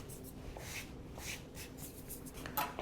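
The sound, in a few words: knife cutting into crusty homemade olive bread loaf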